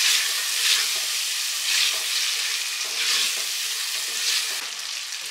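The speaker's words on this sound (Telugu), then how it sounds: "5 నిమిషాల వరకు ఈ టమాటాలు మగ్గేలాగా 5 నిమిషాలు మంచిగా మగ్గనిచ్చుకోండి ఈ టమాటాలని" Chopped tomatoes sizzle and fry steadily in a pan for channa masala, a loud close hiss with faint stirring swells and no voices.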